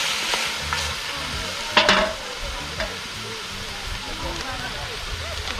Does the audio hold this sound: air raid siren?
no